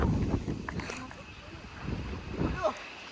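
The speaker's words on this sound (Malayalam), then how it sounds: "നല്ല കാറ്റടിച്ചിട്ടുണ്ട്" Gusts of strong wind buffet the microphone in low, rumbling bursts at Jellipara near Attappadi, while a person talks through the blustery noise.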